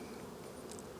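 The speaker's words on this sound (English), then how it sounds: "Okay, we got some bees in this yard." Honeybees buzzing around beehives in a yard during a late winter hive check, a steady, faint drone that holds on without a break.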